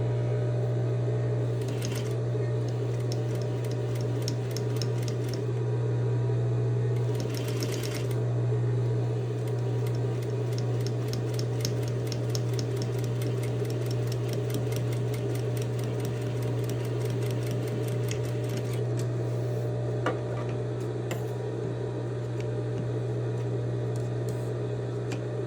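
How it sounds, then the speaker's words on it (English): A sewing machine stitches along the edge of a fabric fold, a steady low motor hum under rapid needle clatter, in several runs with short pauses between them. "put my presser foot down, and I'm stitching right at the edge"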